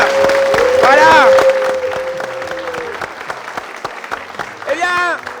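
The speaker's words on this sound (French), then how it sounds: "on va s'applaudir" A studio audience claps steadily on a French TV variety show set, the applause fading out gradually while a voice sings tonal fragments over the clapping.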